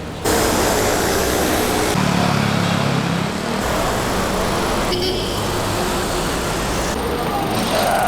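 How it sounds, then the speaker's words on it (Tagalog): Steady road traffic from cars and motorcycles rushing past on a busy road during a group bicycle ride toward Katipunan, a continuous loud engine-and-tire wash with shifting passes, wind noise on the microphone, and no clear talk. "Hindi naman ganun kalala yung traffic."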